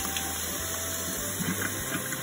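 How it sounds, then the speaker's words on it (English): Cold water runs steadily over a hot pressure canner full of beets to quickly release its pressure, a continuous rushing, gushing flow heard close up with no talking. "we're going to do a quick release of pressure here by running cold water over it."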